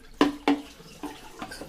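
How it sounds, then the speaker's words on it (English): Electrolyte solution drink is poured away, with a couple of sharp splashy knocks followed by softer trickling and dripping sounds, fairly quiet and close. "And now there's going to be the ceremonial pouring away"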